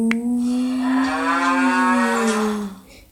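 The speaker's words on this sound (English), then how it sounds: "Cow, moo." Close, loud cow moo played as a sound effect, one long low sustained bellow lasting nearly three seconds before cutting off.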